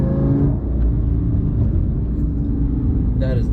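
A Lamborghini Gallardo V10 engine rumbles and revs steadily close by, a sustained low throaty drone that swells slightly near the end.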